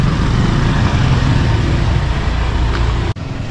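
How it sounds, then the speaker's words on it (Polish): A motorcycle engine running steadily, a continuous close, loud low rumble with no pauses, ending in a brief sharp dip. "Motor już w gotowości."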